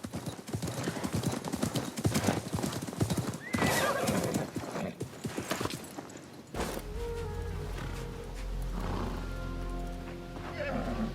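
Hooves clip-clop steadily on hard ground in Assassin's Creed Mirage, then a horse lets out a loud, drawn-out neigh that rises and wavers over a low rumble.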